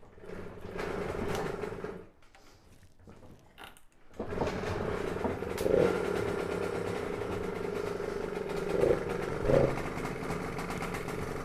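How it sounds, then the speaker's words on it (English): A small two-stroke engine on a Garelli Eureka Flex moped with a NOI motor, started by pedaling, sputters to life after a short pause, then idles steadily with a few louder revs and pops, close by. "That's how you start a Garelli Eureka Flex moped."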